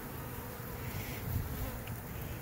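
A swarm of honey bees drones in a steady, dense buzz close by, continuous and even throughout with no voices.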